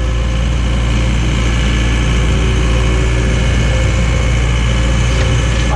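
A John Deere 317 skid loader's engine runs loud and steady while pushing cold, fluffy snow, a heavy low drone with constant mechanical hum, close up throughout with no voices.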